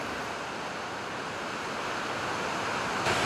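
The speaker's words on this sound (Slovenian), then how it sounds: "Ja, to je slap, iz katerega dejansko izvir Lepenci." A waterfall at the source of the Lepenica stream in the Lepena valley roars as a steady, dense rush of broadband noise, continuous and fairly close, with no voices over it.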